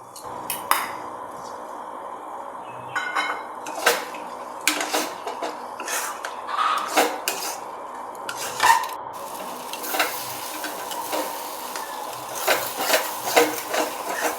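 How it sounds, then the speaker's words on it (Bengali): Metal spoon clatters and scrapes in a pan as soya chunk curry masala with pre-fried potatoes is stirred and fried, giving irregular knocks over a soft steady sizzle with no talking. "মশলাটা কষা হয়ে গেলে আমি আগে থেকে ভেজে রাখা আলুগুলি এর সঙ্গে দিয়ে আবারও কিছুটা ভেজে নেব।"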